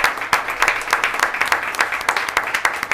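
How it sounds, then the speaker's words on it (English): Applause at a school board meeting for a graduating high school athlete, a small crowd clapping in a quick, uneven patter of distinct claps, moderately close, without speech. "So, big round of applause for him."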